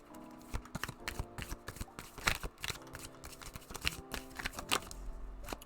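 Tarot cards are shuffled by hand in a steady run of crisp riffling snaps and soft flutters, close and fairly loud, with no talking.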